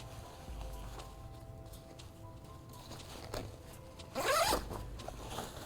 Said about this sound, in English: You have a zipper that will have zippers from both ends.